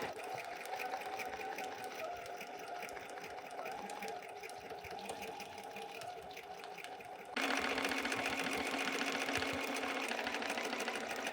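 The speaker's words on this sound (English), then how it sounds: "join me over at the sewing machine and we'll get this stitched down all the way around" Sewing machine stitching fabric for a folded star table topper, a steady close mechanical whirr that runs continuously and jumps louder and faster partway through.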